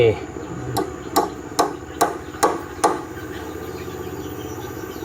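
Six sharp hammer strikes at a steady rhythm ring out during house construction, fairly close and loud over a low background hum, then stop.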